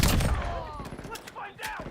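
Rapid gunshots in Call of Duty Warzone's Verdansk map rattle close and loud in a short burst, with someone talking over them.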